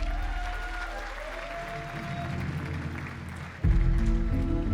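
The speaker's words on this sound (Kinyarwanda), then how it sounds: "muyikomera amashyi." A live audience at a comedy show breaks into loud, dense applause near the end, following a stretch of murmuring room noise.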